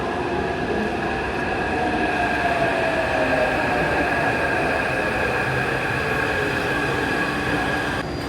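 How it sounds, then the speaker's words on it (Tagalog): Taipei Metro Green Line train pulling into the platform near Ximen, a steady loud rumble with rising tonal motor whine and faint wheel squeal throughout, no talking. "Nandito na yung tren."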